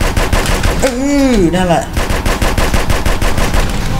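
Loud, dense gunfire from GTA San Andreas, rapid machine-gun bursts rattling continuously, with a brief voice interjecting near the start over the shooting.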